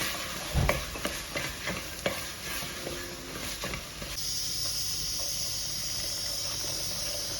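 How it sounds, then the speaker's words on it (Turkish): Boiled, drained rice and bulgur are sautéed in a pan, with soft stirring scrapes at first, then a steady, quiet sizzle and hiss that takes over and continues to the end. "Bunu süzmüştüm haşladıktan sonra pirinci de ve bulguruyla kavuracağım."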